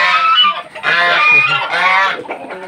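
Farmyard geese let out a string of loud, raspy honks close to the microphone, three or four strained calls in quick succession with short gaps between them.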